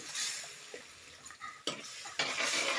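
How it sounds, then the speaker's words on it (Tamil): Potatoes stirred into frying masala give a soft sizzle broken by scraping spoon strokes and a couple of sharp clanks of utensil against pan, loud and close. "இந்த மசாலா நல்லா வதங்கணும் இப்போ இந்த உருளைக்கிழங்கு நம்ம இதில் சேர்த்துக்கலாம்"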